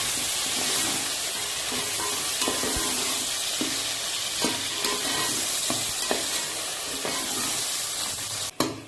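Tomatoes sizzle and fry in a pan with ginger and garlic, a steady hiss broken by occasional stirring scrapes and clicks of a utensil, close and continuous.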